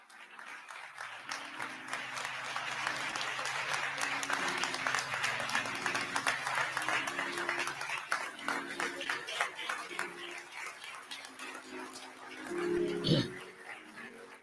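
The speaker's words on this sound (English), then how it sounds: "Please give a great round of applause for the Reverend Al Sharpton." Sustained applause and clapping fill a memorial service for George Floyd in Minneapolis, a dense crowd ovation holding steady for over ten seconds before tapering, with a brief louder burst near the end.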